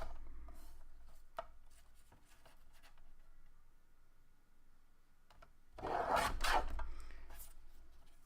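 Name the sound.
trimming paper sentiment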